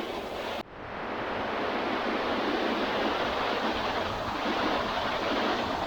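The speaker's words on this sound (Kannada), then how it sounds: "ಫಾಲ್ಸ್ ಮಾತ್ರ ಸಕ್ಕತ್ತಾಗದ ನೀವು ಮಿಸ್ ಮಾಡೋಕೆ ಇಲ್ಲ ಇಂಥ ಫಾಲ್ಸ ನೋಡಿ ಒಮ್ಮೆ" Kannika Falls on the Mavinagundi–Honnavara road roars with a continuous broadband rush of falling water, loud and steady throughout with no voices.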